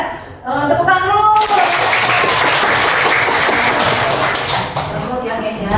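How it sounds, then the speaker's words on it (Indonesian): Students in a Year 10 class at a Garut high school burst into sustained applause just after a teacher's voice, with clapping and some vocal noise continuing loudly for several seconds before tapering off. "Tepuk tangan dulu"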